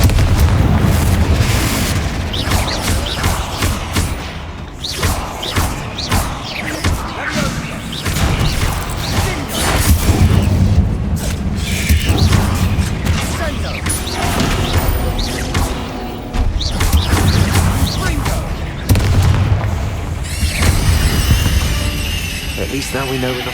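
A Confringo fire spell explodes in the Hogwarts Legacy video game inside a catacomb tomb, giving loud repeated booming blasts and crashes over a dense game soundscape, with characters talking between the bursts.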